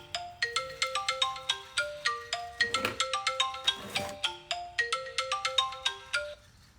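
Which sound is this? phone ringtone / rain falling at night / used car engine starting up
phone ringtone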